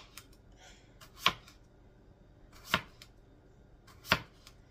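Three evenly spaced, crisp knife cuts through cucumber for thin slices on a board, about one every second and a half, close and clear over a faint background hum.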